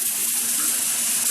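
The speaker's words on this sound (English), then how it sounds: "what you're hearing is the release of a little bit of steam that comes out" A pressure cooker full of short ribs lets out a steady, loud hiss of escaping steam, a continuous bright rush with no breaks from start to finish.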